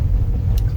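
Low, steady engine rumble heard from inside a car, filling the cabin for a brief moment with a close, droning hum and no voices over it.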